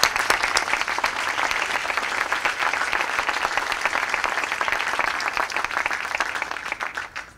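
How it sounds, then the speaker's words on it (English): An audience at a July 2013 GMAP commencement ceremony gives the graduates a big round of applause, a loud sustained wash of many clapping hands that fades near the end. "again, a big round of applause for you"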